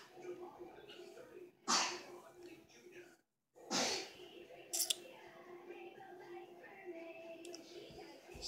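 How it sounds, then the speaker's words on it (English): Two sharp sneezes burst out close to the microphone a couple of seconds apart, surrounded by quiet breathing and faint room noise, with another short snort-like burst shortly after. "I'm sneezing."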